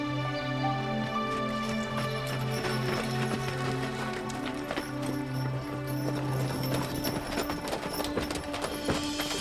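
Steady clip-clop of a six-horse hitch's hooves on pavement, a brisk repeating rhythm close by, over a low droning hum.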